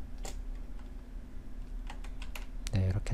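Scattered computer keyboard key presses during 3D modeling of a shark, including a quick cluster of clicks near the end, heard close but soft beneath ongoing speech.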